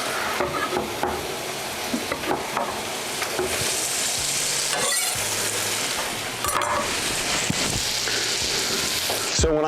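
About half a pound of bacon sizzles and spatters in a pan over medium heat, a loud steady frying hiss with occasional stirring clatter and a brief scrape near the end.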